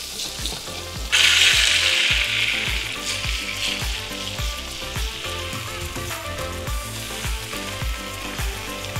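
Wild boar schnitzels fry in hot oil, a bright, continuous sizzle that flares louder early on, then settles into steady crackling with rhythmic scraping and clatter of a utensil in the pan.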